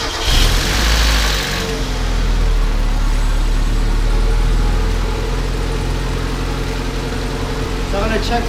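A Mazda Miata engine runs loud and close while warming up after cooling-system maintenance, starting with a brief rev then settling into a steady idle drone.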